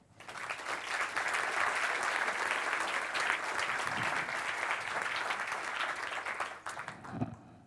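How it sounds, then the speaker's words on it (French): Sustained audience applause at the Prix Espoir du Leadership 2017 award ceremony, a dense steady clapping from a large crowd lasting several seconds before tapering off at the end. "Je vous propose de les applaudir."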